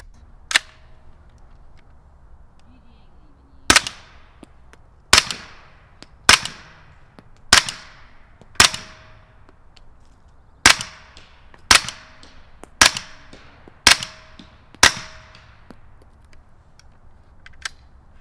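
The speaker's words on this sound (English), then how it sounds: "We're going to shoot the BM15 PCC on the Scorpion." A BM15 PCC rifle fitted with a Scorpion suppressor fires about a dozen sharp, suppressed cracks spaced a second or so apart, each with a short ringing tail, over a quiet outdoor background.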